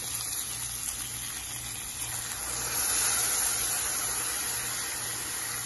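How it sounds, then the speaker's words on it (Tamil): Water steadily poured into an onion-tomato and ground masala paste for Tamil-style chicken curry, a continuous close splashing gush that swells louder partway through, with no talk. "இந்த மாதிரி தண்ணி விட்டு நல்லா இப்படி அலாசி உள்ள சேர்த்துருங்க."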